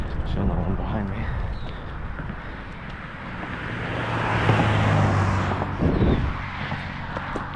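A car passes on a quiet back road while the listener rides a bike, its engine and tire rumble swelling and fading over steady wind and breathing noise.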